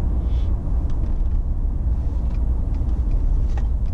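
A Gen2 Ford Raptor with a COBB tune accelerating, heard as a steady, loud, deep engine rumble throughout with no talk.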